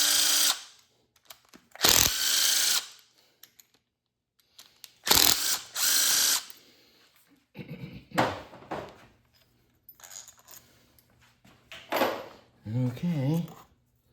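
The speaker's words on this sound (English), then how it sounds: "let's go ahead and pull off this oil filter housing and see what the condition of this gasket is" Ratchet and tools working on the oil filter housing of a Ford Taurus SHO engine during an engine swap, in short separate bursts of clicking and mechanical noise with quiet gaps, close to the microphone, and someone talking briefly near the end.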